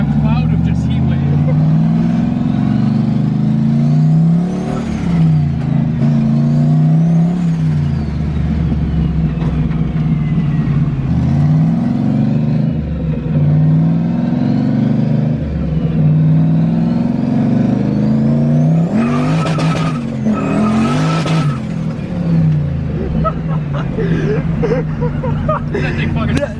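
A turbocharged LS-powered Nissan 240SX revs hard in fifth gear while spinning its tires, a loud rising and falling engine drone that continues throughout, heard under people talking nearby.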